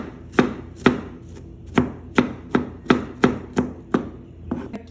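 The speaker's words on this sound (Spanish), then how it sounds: "Miren, aquí ya la estoy partiendo en pedacitos y así la vamos a partir toda, ya que está cocidita." A knife chops cooked cauliflower into small pieces on a board in about ten crisp, evenly spaced strikes, close and clear with no talking.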